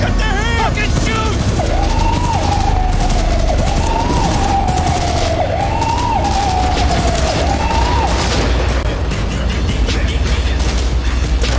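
Dense, loud bursts of automatic gunfire from the video game Cyberpunk 2077 rattle almost continuously, with a rising and falling wailing tone running beneath the shots.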